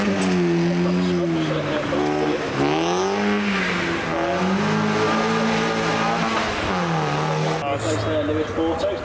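A road rally spec Mazda MX-5 races up the Prescott speed hill climb, its engine revving and rising and falling in pitch through gear changes, close and loud beneath an excited commentator's voice.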